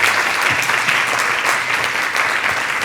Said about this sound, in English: Can we get a quick round of applause for all of our panelists here today?